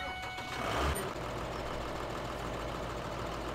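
A tractor engine idles in the farming game Landwirtschafts-Simulator 17, a steady low mechanical rumble with a brief louder bump near the start, otherwise constant and alone.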